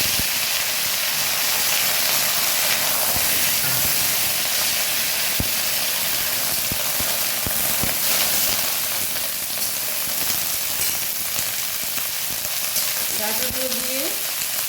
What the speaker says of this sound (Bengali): ফোড়নটা একটু ভাজা ভাজা হয়ে গেছে, এর মধ্যে এবার আমি ডাঁটাগুলো ছেড়ে দিলাম